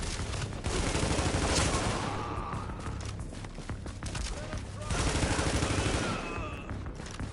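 Sustained gunfire bursts in The Division, an online shooter game, with a loud, dense volley that lulls around four seconds and then surges again, mixed with faint footsteps and game noise.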